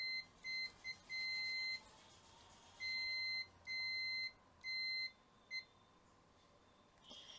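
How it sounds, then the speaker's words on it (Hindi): A multimeter on continuity mode beeps while testing the diodes of a bridge rectifier in a dead Sony TV power supply: several clear high-pitched tones of varying length, alone and fairly close. "एनोड कैथोड के लिए ये हमारा बीप साउंड सुनाई दे रहा है, मतलब ये सही है"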